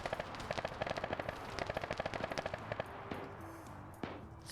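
Rapid automatic bursts of armor-piercing rounds pour into a building in a PvP video game match, a dense rattle of close shots that fades into scattered electronic tones.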